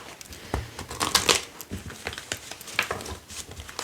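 A deck of tarot cards being cut and shuffled, with a string of close, crisp riffling and slapping bursts spread across a few seconds and no talk.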